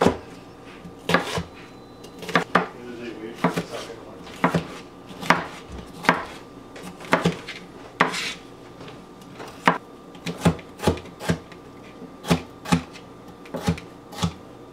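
Onions are chopped into thumbnail-sized pieces on a board, a run of sharp knife strikes landing in an irregular rhythm about once a second, close and clear with no talking.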